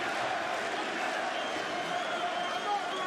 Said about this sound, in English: Boston crowd getting behind the champion Stipe Miocic